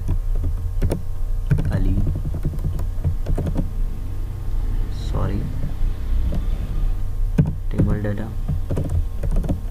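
Clicky computer keyboard typing in bursts while entering data into an HTML table, with someone talking over it and a steady low hum underneath.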